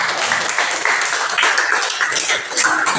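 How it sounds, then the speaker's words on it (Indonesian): A class clapping together at the close of a lesson, a dense, steady patter of many hands that holds at an even, fairly loud level throughout with no gaps. "Kita tepuk tangan dulu untuk kita semua."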